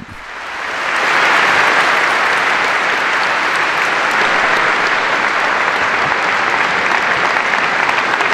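Sustained applause from an audience in the Rome synagogue after Pope Francis's speech, swelling quickly in the first second and then holding as a loud, dense, even clapping with no voices over it.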